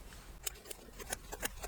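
Scissors trimming quilt batting close to the stitch line of a machine-embroidered appliqué topper, giving four or five crisp, close snips in quick succession.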